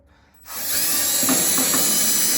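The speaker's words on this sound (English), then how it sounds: "That's just how I clean my grill. With a good old little Milwaukee drill and a wire brush attachment." After a brief quiet moment, a Milwaukee power drill whirs up and spins steadily, its wire brush attachment grinding and scratching against a metal grill.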